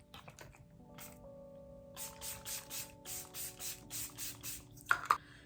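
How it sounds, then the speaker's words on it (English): A run of quick, hissing spritzes from a makeup setting spray bottle comes in an even rhythm over a faint steady hum, close by. "always go in with like a setting mist or setting spray"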